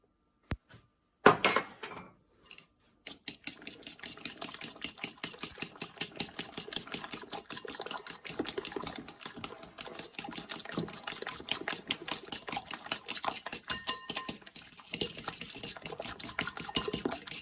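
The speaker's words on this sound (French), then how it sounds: "je vais quand même utiliser une maryse. Ça m'évitera de laisser de la matière dans le bol." A silicone spatula scrapes around a mixing bowl of keto waffle and pancake batter, giving a close, steady run of rapid rhythmic scraping and tapping strokes that carries on for most of the stretch after a short pause.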